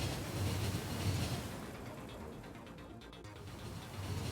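Freight train rolling along in the factory game Factorio, a steady low rumble of wheels and wagons, continuous and moderately loud with no talking.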